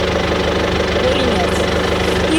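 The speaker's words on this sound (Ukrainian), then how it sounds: "Трактор їде, воно зацепило, е, придавили спеціальні лищата і поїхали садити." A tractor engine running steadily while hauling a tree-planting machine setting pine seedlings in a forestry plot, a loud continuous droning hum with a person talking over it.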